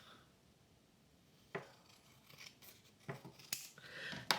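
Scissors cut through dressmaking fabric in a handful of crisp, separate snips, the first alone and then several in quick succession, close and quiet, with no talking.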